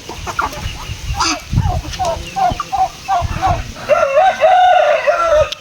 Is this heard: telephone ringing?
no